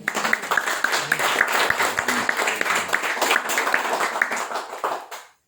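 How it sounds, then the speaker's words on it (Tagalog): A church congregation claps along steadily for several seconds, a dense roomful of hands with rhythmic accents, fading out abruptly at the end; no talk over it. "Can we clap our hands, Lord?"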